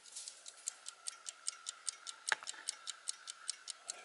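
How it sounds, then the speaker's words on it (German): An early-1960s GDR clock radio ticks steadily and closely, about five even, sharp ticks per second in a quiet room, with one louder click partway through. "also die Uhr tickt"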